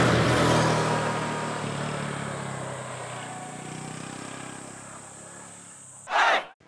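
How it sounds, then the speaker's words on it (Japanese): A Honda Cross Cub motorcycle's new long-stroke single-cylinder engine hums steadily while riding, loud at first and slowly easing, with wind rush throughout and a brief loud burst near the end. "あーカブだね、カブの音だカブのレスポンスだ"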